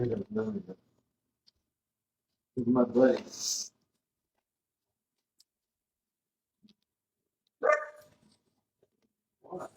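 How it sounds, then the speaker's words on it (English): Dogs bark in short, loud bursts close by, a few separate volleys broken by stretches of silence. "Our dogs think they have to announce every time Ron walks in or out of the house"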